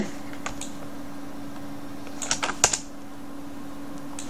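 A computer keyboard being typed on while writing with Avro Keyboard, a short burst of close, light key clicks after a quiet stretch, with no talking.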